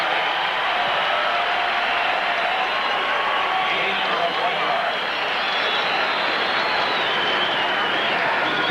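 A large stadium crowd at a 1985 Eagles–Chargers football game roars steadily as quarterback Fouts returns to the field, a continuous loud wash of cheering and applause throughout, with a commentator talking over it.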